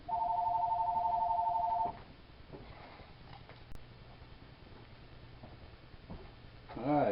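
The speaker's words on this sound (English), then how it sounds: "Telephone," A telephone rings with a steady electronic trill for about two seconds in a saw-sharpening workshop, then stops, leaving quiet room noise and faint shuffling.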